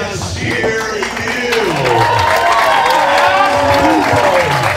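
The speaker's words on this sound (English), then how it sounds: "give a round of applause to yes, here he" A crowd applauds and cheers for a boxer entering the ring at an amateur boxing event in New Jersey, the clapping swelling steadily under a loud announcer's amplified voice.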